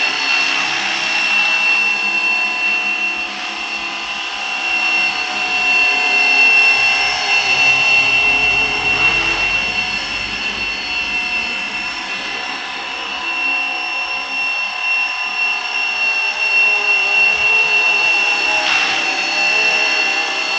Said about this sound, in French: C'est génial de pouvoir piloter un hélico comme ça